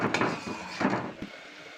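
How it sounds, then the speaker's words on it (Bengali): A spoon scrapes and knocks against a pan while stirring sandesh sweet mixture, a few irregular close scraping strokes with a sharp tap near the end. "ভালো করে নেড়ে নেব, কন্টিনিউ নাড়তে হবে"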